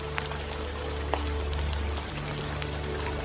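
Steady rain falls with a dense patter of drops and a low constant rumble underneath, continuous and even throughout with no voices.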